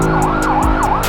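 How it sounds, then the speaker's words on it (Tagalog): An ambulance siren wails loudly and close on a street in Dangwa, Manila, rising and falling in a quick repeating cycle, with a low rumble of traffic underneath. "At ambulansya yan."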